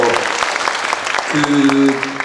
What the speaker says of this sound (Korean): 네, 뜨거운 박수 부탁드립니다